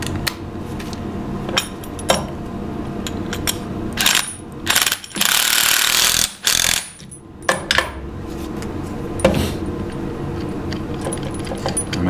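An impact gun removes adapter fittings on a C5 Corvette manual brake master cylinder, sounding as a short loud rattling burst in the middle amid metallic clinks and tool handling, close up.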